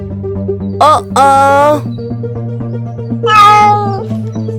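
A kitten in a Tamil children's animated story meows three times, loud and close, with two short cries followed after a pause by a longer one over a steady musical backing.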